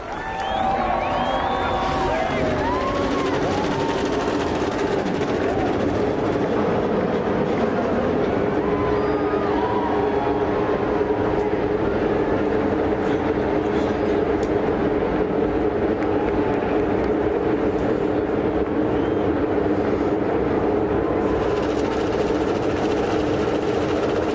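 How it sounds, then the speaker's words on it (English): IndyCar race cars fire and run their engines together at the start of the 2006 Toyota Indy 300, a loud, sustained, droning buzz from the whole field with crowd noise and a voice talking faintly underneath. "Pit lane, we see all hands up, which means all engines have been fired."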